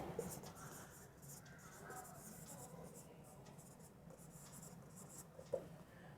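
Faint, steady scratching of writing on a board or paper during a Class 11 set theory lesson, continuing quietly for several seconds with a soft tap near the end.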